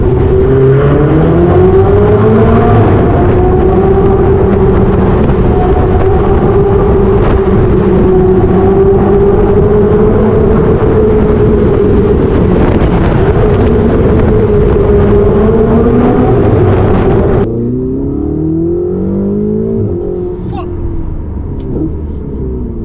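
A Ferrari 488 pulls hard in a tunnel, its turbocharged engine droning and rising loudly for most of the stretch before easing off, with people talking over it.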